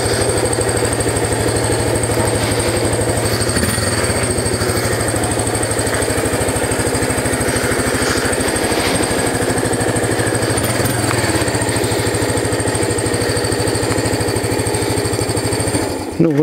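Yamaha SR250 single-cylinder motorcycle idling after a cold start without choke, a steady, even thumping putter that holds a constant level throughout, close by with no talk.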